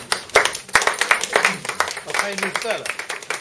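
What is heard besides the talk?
audience applause for a speaker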